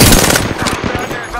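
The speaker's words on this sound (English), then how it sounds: "Shots fired, and they're hitting me." Rapid automatic gunfire in the video game Apex Legends, loud and dense, a continuous rattling burst that runs through the whole moment and eases slightly toward the end.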